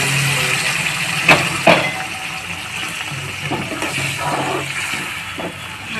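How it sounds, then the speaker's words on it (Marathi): Hot water poured into a cooking pan of mashed bhakri-piece mixture, a steady watery gush and splash heard close up and alone, with a couple of brief clinks near the start. "आता आपण याच्यामध्ये गरम पाणी टाकून घेऊया."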